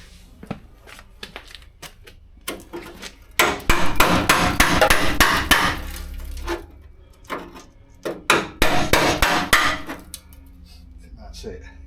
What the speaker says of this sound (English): Oh, pry bar.